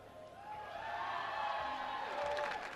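A crowd at an MLG Providence 2011 esports match cheers and whoops steadily, a broad roar of many voices sustained throughout, moderately loud and somewhat distant.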